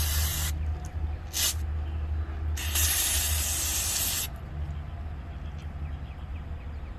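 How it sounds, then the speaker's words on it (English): Carburetor cleaner sprays from an aerosol can onto a 2-stroke carburetor. Two short hissing bursts come first, then a longer loud spray of about one and a half seconds, over a steady low engine hum. "So we're gonna clean this off with the carburetor cleaner. Just hit it."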